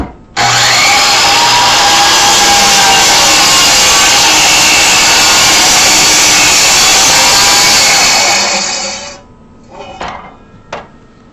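A power saw cutting slowly through a thick, wide hardwood board for a cutting board, a loud, steady high-pitched whine with rasping bite lasting about nine seconds, then winding down followed by a few knocks and clatters.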